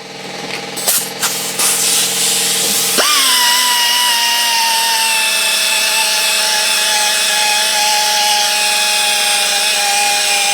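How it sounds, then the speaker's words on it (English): A power tool spinning a buffing pad on a car headlight during restoration, a few short starts and clicks, then a loud, steady whine that holds on alone to the end. "And then I'll put on my other little buffing pad I got here, and we'll clean her off."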